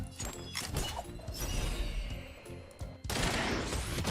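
Gunfire in a Thai-language shooter video game, dense bursts of rapid shots and impacts layered with game effects, steady and fairly loud, with a heavier burst near the end.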